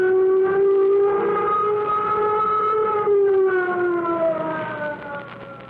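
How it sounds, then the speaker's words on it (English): A steady wailing siren holds a rising-and-falling tone, loud and continuous, with the pitch slowly dipping toward the end. "Sound flight warning signal."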